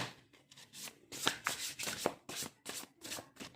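Tarot cards are shuffled by hand close up, making a steady run of quick papery riffles and slaps in short, uneven bursts, with no talking.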